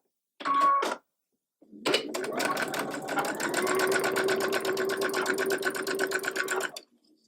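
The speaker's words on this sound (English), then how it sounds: "Now we're going to sew this at 1/4 inch." A sewing machine stitches a quilt block at a quarter-inch seam: a short burst, a pause, then a longer steady run of rapid needle clatter that stops abruptly.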